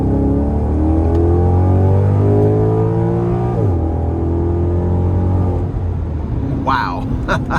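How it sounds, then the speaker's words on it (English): A 2016 Maserati GranTurismo Convertible Sport accelerates hard up an interstate on-ramp, the engine note climbing loudly through the revs, dropping at a gear change, then pulling again from inside the cabin. "I'm gonna try to give it a pull getting on the interstate here"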